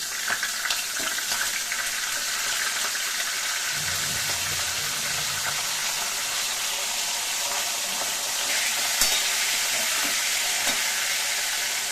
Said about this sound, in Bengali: কড়াইটা গরম হয়ে গেছে। এবার তেলটা, এবার মাছের মাথাগুলো ছেড়ে দিলাম।